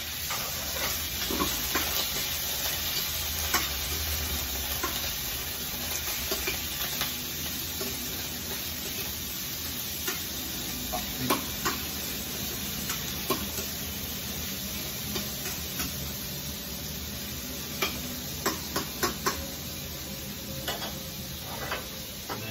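Garlic and onion sizzle in a very hot wok, giving a continuous close frying hiss. Scattered clicks and scrapes from stirring come through now and then.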